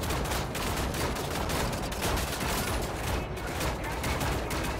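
Dense, continuous gunfire from the video game Wolfenstein: The New Order, with rapid overlapping shots and bursts forming a loud, unbroken barrage.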